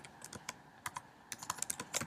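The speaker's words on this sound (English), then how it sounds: "right here you type in whatever you want to do" Fingers type quickly on a computer keyboard close by, producing a run of crisp irregular clicks and key taps with small pauses between bursts and no talking.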